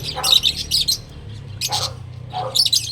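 Several birds chirp and squawk in short, sharp bursts close by, over a faint low hum.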